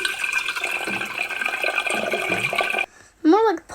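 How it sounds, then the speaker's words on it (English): Water pours steadily in a sound-effect sample for about three seconds with a broad, continuous splashing wash, then cuts off sharply before a brief spoken voice. "More like pouring water."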